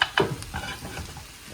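Onion tossed into a hot pan for a chicken tikka dish, a quick clatter as it lands followed by a soft sizzle and stirring scrape, close and brief.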